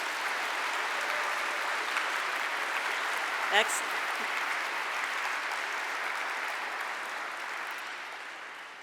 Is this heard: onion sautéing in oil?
no